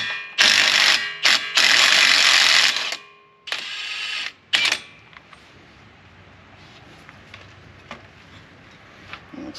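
A ratcheting socket wrench works loose a 32 mm axle nut on a 2009 vehicle during a suspension job: several loud bursts of rapid clicking, then scattered faint clicks and handling noises.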